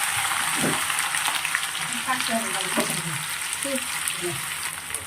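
Chopped onions frying in oil in a home kitchen give a steady close sizzle, with a few soft stirring scrapes and faint voices murmuring in the background.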